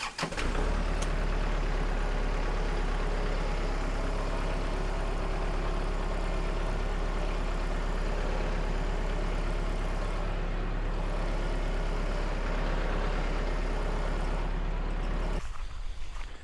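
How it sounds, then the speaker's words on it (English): A tractor with a flail mower attached idles loudly and steadily nearby, its engine holding a deep, constant rumble before cutting out abruptly near the end. "So the mower's on the tractor."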